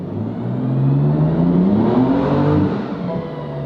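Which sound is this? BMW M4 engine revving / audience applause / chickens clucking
BMW M4 engine revving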